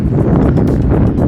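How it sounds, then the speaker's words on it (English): Strong, roaring wind buffets the microphone in a continuous rush on a hilltop near Black Hill in the Peak District, loud and close, with no voices. "It's very windy up here"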